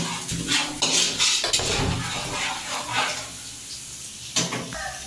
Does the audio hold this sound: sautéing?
yes